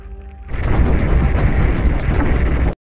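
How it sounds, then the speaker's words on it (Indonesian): A big blast from the zombie film World War Z, erupting suddenly as a loud, sustained rumbling roar that fills the scene for over two seconds, then cuts off abruptly. "Tiba-tiba ada ledakan besar yang membuat sinyal komunikasi terganggu."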